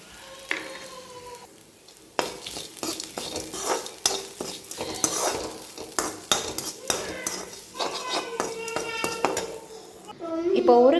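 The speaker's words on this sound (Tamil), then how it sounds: "இப்போ இதை கூட சேர்த்து நம்ம வதக்கிடலாம்." Grated coconut with seasoning is sautéed in a metal pan, with a spatula clanking and scraping repeatedly over a steady sizzle, loud and close, the strokes coming in quick irregular bursts.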